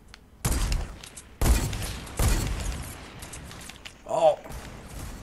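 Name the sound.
gunfire in a video game sniper shootout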